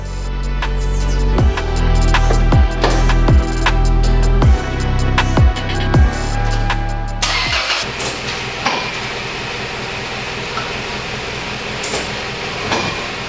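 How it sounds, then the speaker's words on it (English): Loud, regular popping knocks from a Toyota Tacoma's drive shaft U-joint when shifting between drive and reverse, about one per second, then giving way to a steady engine rumble and mechanical noise. "So there was a loud popping anytime you went from like drive or to reverse."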